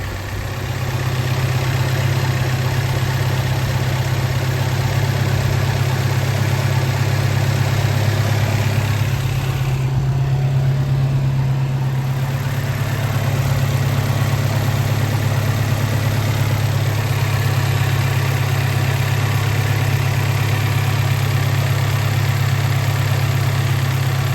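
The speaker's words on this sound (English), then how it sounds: "listen to that magnificent exhaust" A 1973 Alfa Romeo GTV's 2-liter engine idles steadily with a deep, even exhaust rumble, loud and close, running unbroken with no voices.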